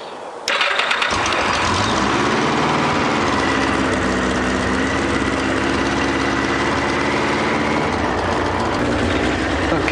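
A Yamaha XJ900 Diversion motorcycle, just back together after fuel pump replacement and fuel tank repairs, cranks briefly and catches, then settles into a loud, steady, close idle that continues unbroken to the end.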